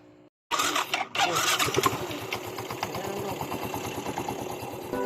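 Yamaha Mio i 125 scooter engine push-started after repair, a sudden loud catch followed by a rapid rattling idle that settles into a steady, slightly uneven putter close to the mic.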